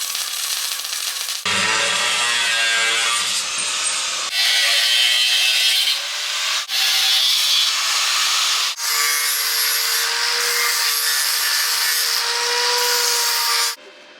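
A power tool cuts angles into metal engine mount brackets in a workshop, running in several long, loud, steady passes with brief stops between them and no talking.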